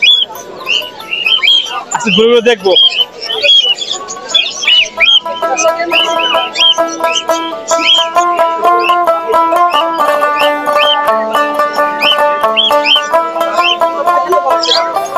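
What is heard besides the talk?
birds calling at a bird market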